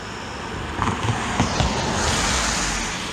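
Swollen floodwater in Pennsylvania rushes past in a constant, loud broadband roar, close and steady with a few faint knocks in the flow.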